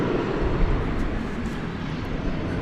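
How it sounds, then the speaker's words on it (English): An Alaska Airlines airplane at DFW Airport at night gives a loud, steady broadband engine roar. "It was that Alaska plane."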